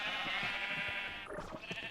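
A Minecraft sheep gives a drawn-out nasal bleat, loud and close, wavering as it trails off, with faint game clicks beneath.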